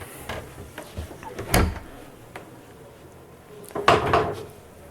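Door to a private washroom aboard a Leader 40 boat, heard as two distinct wooden knocks and clunks, one near 1.6 s and a louder one near 4 s, close by in a quiet cabin with faint creaks between.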